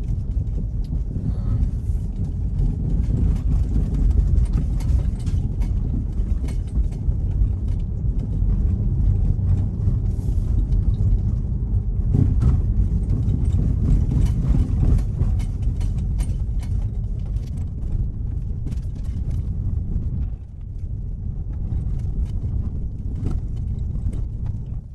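A Tesla on FSD Beta rolls over a packed, rough dirt road, giving a steady, loud low rumble of tires and road noise with wind, continuous for the whole stretch and briefly dipping near the end.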